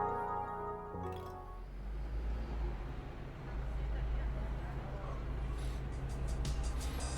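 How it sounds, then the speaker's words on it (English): Bus engine from the horror video game House Hunted, a steady low rumble droning throughout the long ride, with a brief musical tone at the start and a voice speaking over it. "What a long bus ride."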